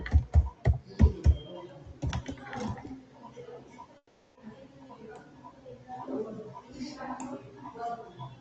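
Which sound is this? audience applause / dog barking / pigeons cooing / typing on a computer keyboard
typing on a computer keyboard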